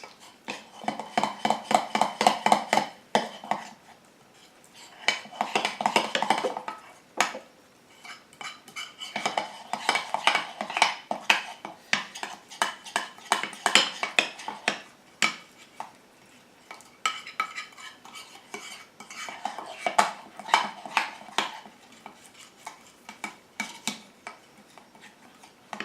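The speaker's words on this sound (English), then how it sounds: "And then I'm going to mix everything together thoroughly." A spoon mixes homemade natural deodorant ingredients in a bowl, with bursts of rapid clicking and scraping strokes separated by short pauses, close and fairly loud, no talking.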